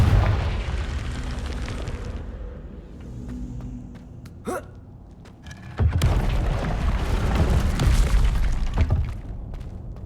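Confringo fire spell blasts in Hogwarts Legacy, a sharp burst near 4.5 seconds and a heavier whooshing boom near 6 seconds, rising out of a steady game ambience that stays loud through the end.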